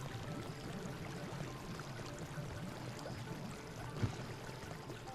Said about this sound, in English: The water sound is weird.